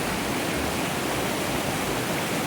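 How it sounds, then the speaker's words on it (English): Water flowing forcefully and beating against rock at a campground stream, heard as a dense, continuous rushing hiss that stays close and even throughout. "Some water is beating up against the rock, forceful."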